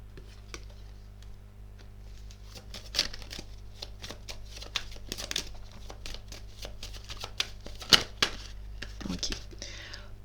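Tarot cards rustle and slap softly as they are shuffled by hand, in soft irregular flutters with a few sharper snaps over a faint low hum, close and quiet.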